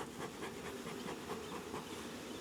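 Honeybees hum around an opened hive in a faint, continuous buzz, low in level and steady throughout, with no voices over it.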